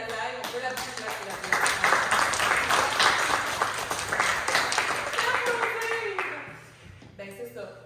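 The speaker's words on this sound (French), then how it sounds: "On peut l'applaudir." Audience at an annual general meeting of a family community centre applauding a newly introduced director, a full round of clapping that swells, holds, then fades out near the end, with voices talking under it.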